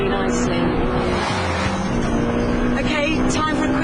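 A Honda Civic Type R's VTEC engine revs hard toward 8,000 RPM, a steady loud droning roar with a sustained engine tone and road noise throughout.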